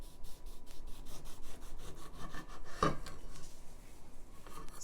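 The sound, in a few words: knife cutting fruit into slices for a cocktail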